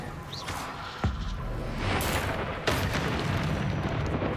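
An Expelliarmus spell cast in the video game Hogwarts Legacy, heard as sharp, punchy bursts over a dense, rumbling battle soundscape, with a crisp hit near the start and another partway through.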